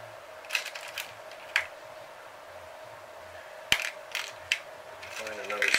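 Small metal parts clink and rattle as someone rummages for an MC59 glow plug for an OS 40 FSR model engine, with a handful of sharp ticks and clatters scattered over a quiet hum.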